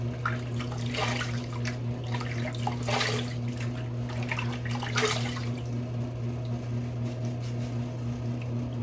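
Tap water runs steadily into a sink while a razor is rinsed between shaving passes, a constant close splashing rush with a few brief louder gushes early on.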